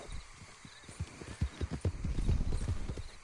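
Hooves of a thin, bony horse clip-clop in a quick, uneven rhythm, growing louder and denser toward the end, with a faint whinny-like tone and no talk over it.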